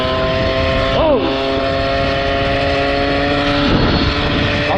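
A small MBK 40 moped two-stroke engine idling with a steady buzzing drone, rising in pitch briefly as the throttle is blipped, close and loud with talking over it.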